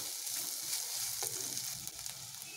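A pan of sizzling oil for a banana-flower kuzhambu keeps a steady, moderately loud fry as chilli powder goes in, with a few faint stirring scrapes.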